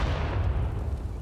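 Grenade blast in Counter-Strike on the Inferno map during a professional match, a short, deep, rumbling boom that fades out quickly.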